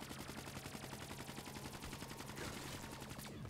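Rapid automatic gunfire from a zombies-mode video game, a sustained steady burst of evenly spaced shots fired at a zombie, loud and continuous for several seconds with no talk.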